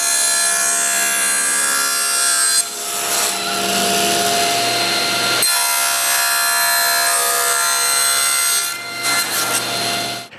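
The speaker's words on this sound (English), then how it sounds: "I begin by cutting the plexiglass" A saw cuts through a sheet of plexiglass for a Festool rail guide jig in a woodworking shop, giving a loud, sustained whine with steady tonal hum that drops briefly mid-cut, then resumes and trails off at the end.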